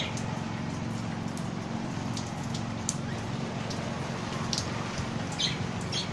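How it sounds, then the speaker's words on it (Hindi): Steady rain patters across a surface in a continuous hiss, with a low hum beneath and a few faint bird chirps here and there. "अभी अभी बारिश शुरू हुई है"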